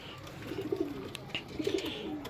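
Pigeons coo in soft, repeated low phrases, a couple of rounded calls close by at moderate volume, with no talk over them.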